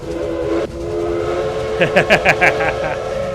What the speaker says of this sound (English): Oh, I can blow the whistle.